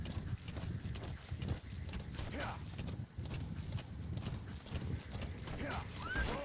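Horse hooves clopping in a steady rhythm beneath ongoing speech and game sounds, with a brief whinny near the end, from the horse D-Horse in the video game The Phantom Pain.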